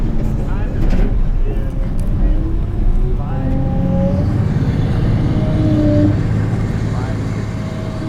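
A Hyundai 985 wheel loader's engine roars and revs hard during a sprint competition, with shifting whine and pitch over a steady heavy drone, under continuous excited commentary.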